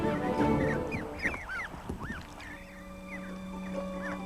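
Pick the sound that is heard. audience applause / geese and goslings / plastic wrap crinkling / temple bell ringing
geese and goslings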